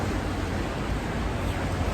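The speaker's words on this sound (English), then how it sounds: "Do you hear the water?" Water and waves wash steadily outdoors on a shore in Seoul, South Korea, a dense continuous roar of surf with wind, loud and close, with no voices.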